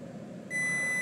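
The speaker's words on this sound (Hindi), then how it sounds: "तो आपको अभी बजर की जो है वो आवाज़ सुनाई दे रही है" A Fluke 1520 megohmmeter's continuity buzzer sounds a steady, loud, high electronic tone when its probes are shorted together, continuing unbroken over a low background hum.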